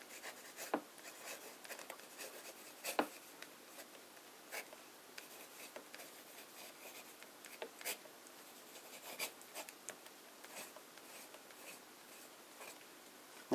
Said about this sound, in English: For now let's do a bit of wet italic writing.